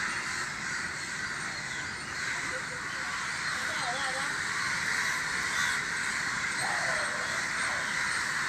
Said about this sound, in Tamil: அந்த மாட்டின காக்காவை காப்பாற்றி விடுற வரைக்குமே அந்த காக்காங்கெல்லாம் சத்தம் போட்டுக்கிட்டே இருக்காங்க.